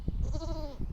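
A young kid goat bleats once on a farm, a short, wavering, nasal cry that is fairly faint and close, with low rustling noise around it.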